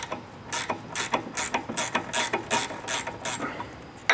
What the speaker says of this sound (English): I'm gonna squeeze this with the pliers.